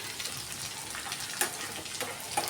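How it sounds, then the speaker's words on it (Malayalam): Shallots, garlic, tamarind and curry leaves sauté in a pan for a chutney, giving a steady soft sizzle with faint stirring scrapes, close and alone. "എന്നിട്ട് നന്നായിട്ട് നമ്മളിങ്ങനെ വഴറ്റി കൊടുക്കണം"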